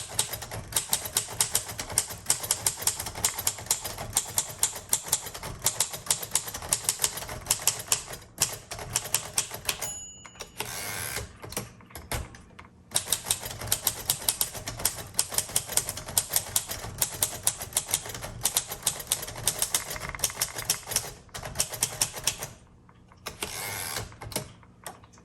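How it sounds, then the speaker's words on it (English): Sentences are typed on a 1935 Royal Model O typewriter, with a steady, rapid patter of crisp key strikes close up, broken by a few short pauses and carriage movements. "All right, let's type some sentences."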